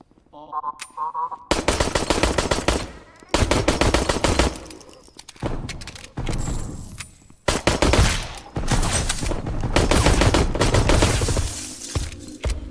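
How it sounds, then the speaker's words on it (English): Repeated loud bursts of rapid gunfire from a video game weapon aimed at a dead carcass, several volleys separated by short pauses, close and harsh with shattering impacts. "I'm shooting a dead carcass."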